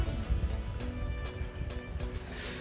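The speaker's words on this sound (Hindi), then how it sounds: "इधर दूसरी तरफ को ये फार्म है घोड़ों का, यहाँ पे कुछ घोड़े हैं।" Horses on a farm beside a bike path in Bavaria, with muffled hooves moving close by in uneven, irregular steps over faint outdoor background noise.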